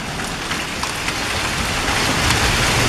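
Pea-size hail and pouring rain beat down hard during a severe thunderstorm, making a dense, loud, continuous hiss and patter with scattered sharper impacts and no voices.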